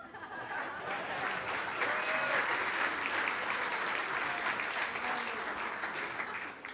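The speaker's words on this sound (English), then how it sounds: "That's the first time anyone's ever had an applause for announcements." An audience at a Sunday church service in Palm Desert breaks into warm, sustained applause after the announcements, a dense even clatter of many hands lasting several seconds.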